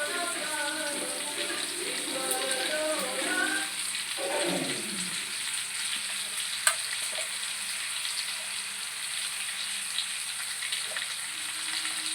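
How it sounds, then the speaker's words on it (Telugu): Fish pieces frying in a pan with gravy poured in, a steady close sizzle and bubbling that runs throughout, with some stirring scrapes early on and no voices. "వీటిని కూడా చక్కగా పచ్చివాసన పోయేంత వరకు అయితే ఫ్రై చేసేసుకుందాం"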